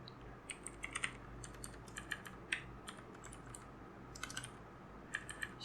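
Quiet, steady clicking of a computer keyboard as code is typed, irregular bursts of keystrokes over a low hum, fairly faint and close with no voices.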